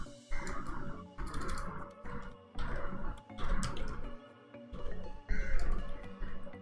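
Bursts of keyboard typing in short runs separated by brief pauses, quiet and close, with clicking keys and no speech.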